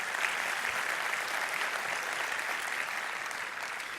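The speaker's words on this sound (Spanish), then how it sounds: "Un aplauso a Dios." A church congregation breaks into steady applause, a continuous even wash of many hands clapping heard at moderate distance, without speech on top.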